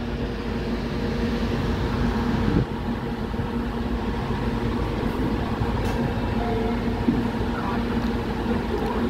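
A local commuter train rumbles into Prospect Heights station in Illinois, a loud continuous rolling drone with steady mechanical hum and faint clanks, no talk.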